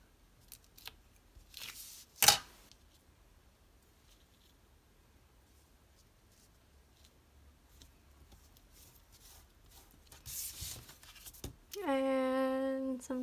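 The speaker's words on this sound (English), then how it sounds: "I'm just going to use a little bit of tear and tape." Tape being torn for a paper ribbon on a handmade card, with a sharp rip near the start and quieter handling rustles and taps through a mostly quiet tabletop scene.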